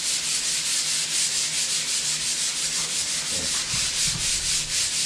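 Steady rhythmic back-and-forth scratching of sandpaper on wood, close and continuous throughout with no talking.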